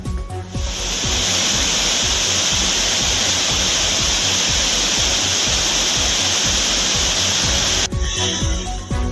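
Flooded Courtallam waterfalls swollen by heavy monsoon rain in the Western Ghats, a loud, continuous roaring rush of falling water that fills the scene steadily.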